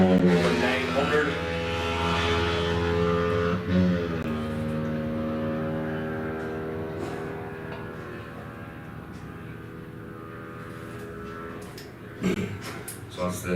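A superbike racing motorcycle on a club circuit at Enniskillen passes with a loud, harmonic engine drone that rises, then fades into the distance, with a circuit announcer speaking over it.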